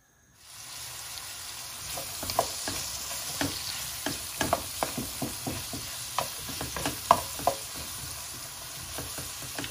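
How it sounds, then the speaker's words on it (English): Steady sizzling of onions frying in a pan, with repeated scraping clinks of a utensil stirring, close and fairly quiet. "love the smell of onions frying."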